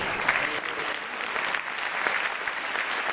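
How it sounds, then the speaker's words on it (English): A steady wash of hand clapping fills a hall as a medical conference audience applauds after a talk, an even patter from many hands lasting a few seconds with no break. "I thank you very much."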